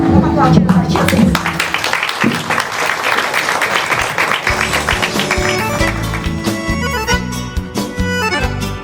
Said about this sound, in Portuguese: Vamos aplaudir os artistas?